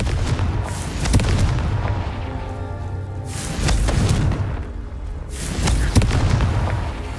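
Confringo fire spell blasts in the Hogwarts Legacy video game, several heavy booming explosions with rumbling tails and sharp cracks, loud and close, no talking.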